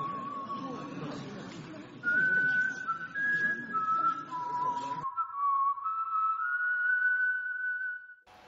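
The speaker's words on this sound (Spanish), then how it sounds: "se escucha por segunda y última vez el silbido del dios." Clear, piercing whistling in long sliding tones, first over a noisy rumbling background, then alone in near silence.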